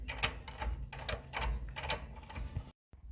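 Ratchet wrench clicking in short bursts while tightening a bolt on a divorced transfer case being installed in a 1971 Ford F250, several close mechanical clicks and metallic knocks, then a brief silence.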